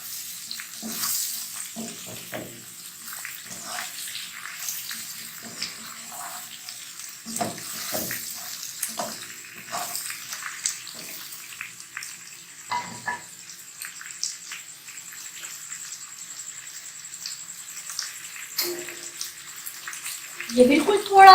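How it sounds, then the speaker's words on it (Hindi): Water poured into potatoes simmering in a karahi, a soft splashing and sizzling wash with scattered clinks, steady and close, ending in a louder clatter. "ये बिल्कुल थोड़ा सा हमने इसमें पानी ऐड करना है ताकि आलू हमारे अच्छे से गल जाए।"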